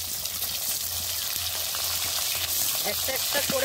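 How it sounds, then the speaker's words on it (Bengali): Chela fish sputter and crackle in hot oil as they are turned over, a dense continuous sizzle with brief clinks of a utensil near the end. "মাছগুলো উল্টে দেব।"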